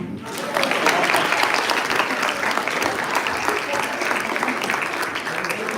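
An audience at an Easwaramma Day program breaks into sustained applause after a short quiet start, and the clapping stays dense and moderately loud until the end.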